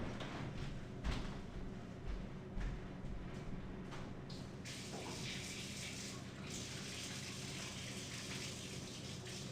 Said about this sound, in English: Yeah, I gotta wash my hands.